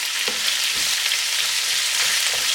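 Chopped onions frying over a high flame in a pan for chicken curry, a steady close broadband sizzle with a few soft stirring clicks, no voices.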